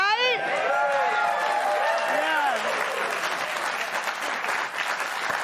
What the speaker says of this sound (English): I just want everybody to clap for me